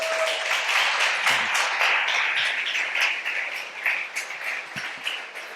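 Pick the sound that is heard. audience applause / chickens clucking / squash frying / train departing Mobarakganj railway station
audience applause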